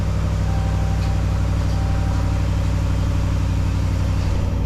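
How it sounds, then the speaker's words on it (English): A 2019 Dodge Ram engine running at a steady idle, a loud, even low hum with a constant mechanical drone that holds unchanged throughout, no starter crank or voices evident. "I'm going to hit the start button"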